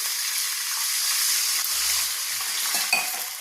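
Curry leaves frying in hot oil for a wheat rava upma tempering, a steady loud sizzle and crackle close by, with a few brief stirring scrapes and no talk.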